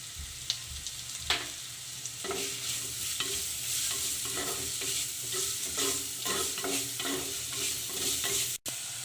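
Small shallots and large onions fry in oil with salt as a base for a clay-pot chicken curry, giving a steady soft sizzle with repeated close spatula scrapes and taps against the pan. There is no talk.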